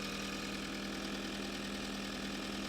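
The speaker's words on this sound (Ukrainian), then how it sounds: "Мотор зараз працює, працює на підвищених оборотах при мінусовій температурі, щоб прогрівався двигун добре." A Toyota RAV4 diesel with automatic transmission idles at raised revs in sub-zero cold, giving a steady, even engine drone with a faint rhythmic knock, close and continuous with no talk.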